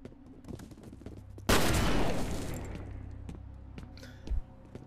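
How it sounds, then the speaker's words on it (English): A shotgun blast in the shooter game F.E.A.R. booms out loud and close with a long ringing tail, set against quieter clicks and scattered background game noise. "Somebody fires a shotgun at me"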